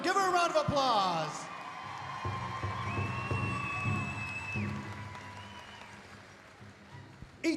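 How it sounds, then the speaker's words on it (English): A crowd at the Gathering of Nations pow wow cheers and applauds for a pageant winner, with whoops and shouts over a sustained wash of clapping, while a voice speaks through it and the noise slowly fades. "Go ahead, give her a round of applause."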